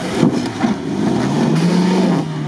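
A Lada Niva engine rumbling loud and near as the car drives past at an off-road club event, a steady growl with a rising tone as it pulls ahead.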